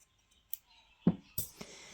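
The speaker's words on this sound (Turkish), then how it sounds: "ipimi kesiyorum" Scissors cut crochet yarn after finishing a lace baby bootie, giving a couple of quick, crisp snips close by in an otherwise quiet room.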